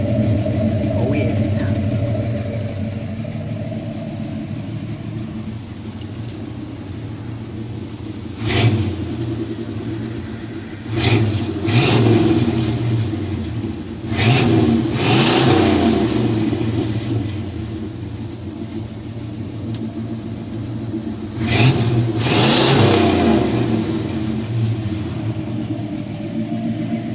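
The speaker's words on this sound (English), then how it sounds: "There's your low exhaust clip for everybody who's wanting to see and hear that exhaust." A Chevy C10 truck with a low-mounted exhaust idles with a deep rumble, then revs in several loud bursts that rise and fall back to idle, heard up close.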